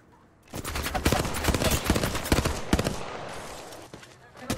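Rapid bursts of gunfire in the battle royale game Apex Legends, loud and close, crackling in dense volleys for several seconds before easing off.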